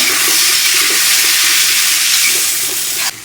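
Boiled white chickpeas, already salted, sauté in a hot pan with a steady, close sizzle and hiss that runs unbroken until it cuts off sharply near the end.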